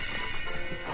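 A horse whinnies and snorts up close on an outdoor film set, with a brief clip-clop of hooves mixed into a dense, busy background.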